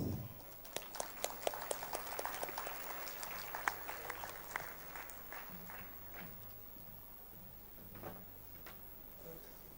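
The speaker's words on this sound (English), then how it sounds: "Let us welcome him with deep reverence and a warm applause" Applause welcomes a speaker at an inter-religious gathering at the Bom Jesus Basilica in Old Goa, a fairly faint, scattered patter of hands clapping in a large hall that thins out over several seconds.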